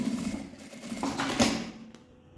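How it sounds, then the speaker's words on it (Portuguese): A sewing machine runs a seam along the straight open edge of a small fabric wallet, a steady close motor hum with rhythmic needle chatter that fades toward the end. "eu vou passar uma costura bem na beiradinha, só pra manter fechado"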